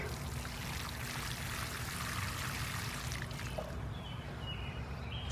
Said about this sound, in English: For now, I'll give them a good water.